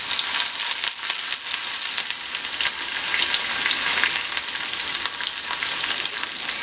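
Ginger and green chillies fry in hot oil for curd rice, giving a steady, close sizzle with crackling spatters throughout and no talk.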